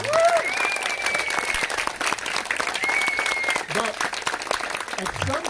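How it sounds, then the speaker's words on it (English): Crowd applause at an outdoor political cookout with candidates, a dense, steady clapping that carries throughout, with a voice speaking over it. "Give her a round of applause"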